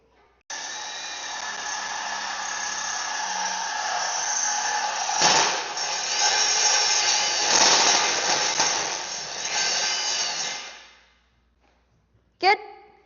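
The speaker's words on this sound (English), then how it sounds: "All right, we got these holes drilled." A power drill boring holes through a metal minibike frame, a steady high-pitched whine running about ten seconds and then cutting off, followed by a short sharp burst.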